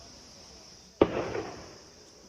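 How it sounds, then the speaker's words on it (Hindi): A single sharp gunshot cracks out during an army operation against militants hiding in a hideout in Anantnag, Kashmir, followed by a brief echoing rumble that fades over the next second. "ये फायरिंग फिर से शुरू हो चुकी है"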